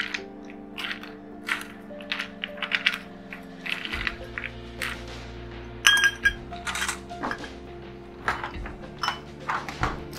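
Ice cubes clinking and clattering into a highball glass while a Talisker spicy highball with pepper is mixed, a run of bright, close glassy clinks and knocks spread over several seconds, with no talk.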